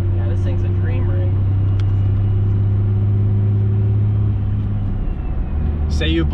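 A compound turbocharged 5.9L Cummins truck engine idles with a loud, steady low rumble that drops slightly near the end, while people talk over it.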